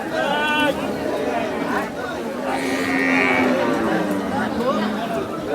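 Cattle moo at the Kalampur cow market on a rainy day, drawn-out lowing calls rising over a crowd of people chattering and talking nearby.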